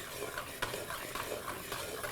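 A spoon stirs and roasts masala in a pan for Nagpur-style tarri poha, giving steady scraping and soft sizzling with a few sharper clinks, close and continuous.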